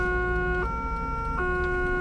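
A Dutch police car's two-tone emergency siren wails steadily, alternating between a high and low pitch over road noise, close and loud, on the A7 at the Afsluitdijk.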